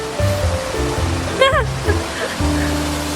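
Steady outdoor water flowing, like a stream or small waterfall, rushes continuously throughout, with a brief voice and some faint tonal sounds over it.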